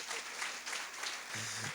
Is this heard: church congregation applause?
yes